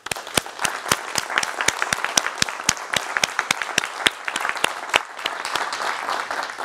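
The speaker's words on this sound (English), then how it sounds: "could we please have a round of applause for all of our speakers today" Audience at a COP26 Green Economy Fund event applauding the speakers: steady, sustained clapping from a modest crowd with distinct individual claps, fairly close, continuing for several seconds.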